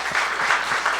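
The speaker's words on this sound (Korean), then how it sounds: "우리 전주 예한교회 역사하신 하나님 앞에 우리 영광의 박수 올리겠습니다" Congregation clapping at a church camp forum, a steady, dense wash of many hands applauding throughout, fairly loud and close, with no voices standing out.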